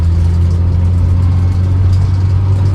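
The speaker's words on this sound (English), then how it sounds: "just the noise of the A series, and the A series is one of the most quintessentially British engines that you can have" An Austin Allegro's A-series engine runs steadily close by, giving a loud, low, even drone with no talk over it.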